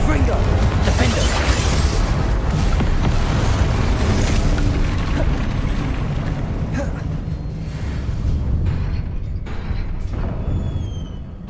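A Confringo blasting spell explodes in Hogwarts Legacy, a heavy, rumbling boom with crackling debris sustained through most of the stretch, dense and loud before tapering off, with game sounds and a voice mixed in.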